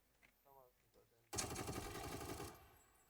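Burst of gunfire in PUBG, a loud sustained volley of rapid automatic shots that cuts in after quiet talk and runs for about a second before stopping abruptly.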